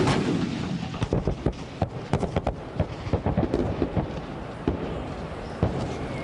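Repeated heavy booms of M109 self-propelled howitzer artillery fire, several sharp concussive blasts in irregular succession over a rumbling background, loud and without speech.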